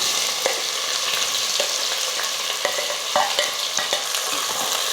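Two large sliced onions fry with already-roasted whole spices in a pan, giving a steady, loud sizzle broken by scraping stirs and occasional clinks, with no voices.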